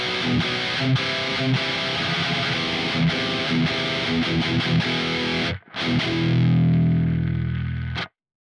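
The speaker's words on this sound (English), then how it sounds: "Let's try one of the stock overdrives that the Quad Cortex came with. Green 808, can never go wrong." Electric guitar through a Quad Cortex modeler with the Green 808 overdrive, playing distorted, driven chords and riffs. After a short gap it ends on a sustained ringing chord that cuts off.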